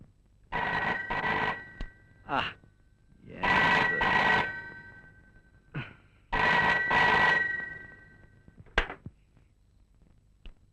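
A telephone rings in a comic film scene, several loud, close bursts of bright electronic ringing separated by short pauses, with little else heard.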